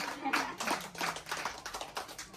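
Scattered hand claps from a small group at a devotional kirtan gathering, uneven and close, with voices talking over them throughout.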